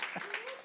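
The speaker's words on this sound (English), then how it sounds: "Let's give God a hand clap of praise and appreciation for Dr. Fred Toke" A church congregation claps in praise, a brief dense patter of many hands at moderate distance with a voice carrying over it.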